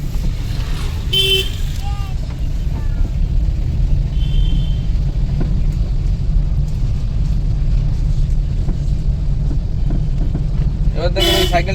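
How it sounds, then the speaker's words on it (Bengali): A car horn honks as the car turns off into a narrow, crowded lane during a driving lesson, short toots over steady engine and road rumble, with a voice speaking over it. "এখানে দেখেন হর্ন দিতে হবে।"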